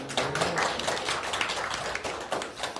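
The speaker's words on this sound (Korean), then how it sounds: "멀리 오셨으니까 박수 좀 부탁드립니다." An audience at a press conference at a provincial government office applauds, a dense patter of many hands clapping at moderate volume for a few seconds.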